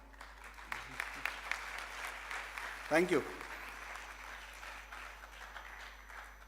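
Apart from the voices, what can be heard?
audience clapping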